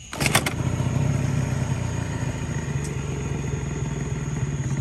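A small Honda Spree scooter engine, a barn find being rebuilt and low on oil, idles steadily close by, a low rumbling putter that holds at an even level throughout.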